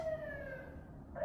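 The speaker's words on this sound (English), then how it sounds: "Sounds like there's sirens coming." Emergency sirens wail at moderate distance, a steady high tone sliding slowly downward through the short stretch, with a second siren swelling near the end.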